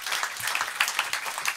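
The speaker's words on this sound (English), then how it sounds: "please applaud quite a bit for the Alkaline Trio" Live audience applauding after an Alkaline Trio set at a 987FM radio session, a steady dense wash of clapping that stays fairly even and moderately loud across the moment, with no voices standing out.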